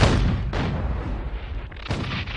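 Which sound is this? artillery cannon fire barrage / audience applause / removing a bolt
artillery cannon fire barrage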